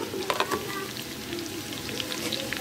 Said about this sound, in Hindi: हम इसमें गोश्त डाल रहे हैं और इसकी भुनाई कर रहे हैं